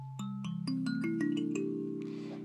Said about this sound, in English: And it's an electric Kalimba.